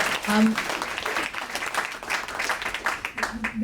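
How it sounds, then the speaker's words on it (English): Audience clapping at a whistleblowing prize ceremony, a short burst of close, sharp claps with voices mixed in. "We have to clap for that"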